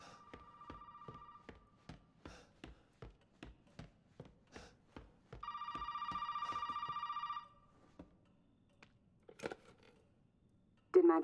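Telephone rings in Resident Evil 7, sounding as two distinct bursts of electronic ringing amid a series of sharp, evenly spaced knocks or footsteps in a quiet room, ending with a loud clatter.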